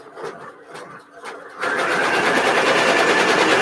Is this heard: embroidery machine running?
yes